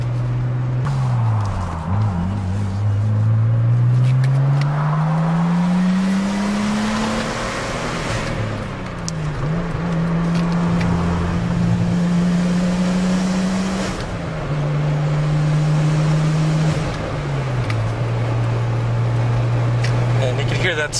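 A Nissan Skyline R32 with an RB engine revs up and down repeatedly, the turbo spooling as the pitch climbs and falls through the rev range, loud and close with a person talking over it.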